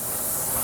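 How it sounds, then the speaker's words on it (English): A steady, dense sizzle fills the clip, a continuous hot frying hiss of marinated boneless chicken thighs in a pan up close, with no voices. "nice sizzle there"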